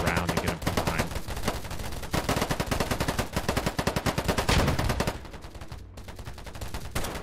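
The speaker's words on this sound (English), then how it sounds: "I am shooting the wrong people" Dense, continuous video-game gunfire in rapid automatic bursts with scattered single shots, loud and close throughout, with no talking.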